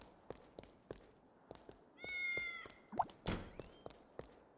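Cats in the video game Fantasian Neo Dimension let out a couple of short meows amid soft, regularly spaced footsteps and a brief thump, fairly quiet and alone.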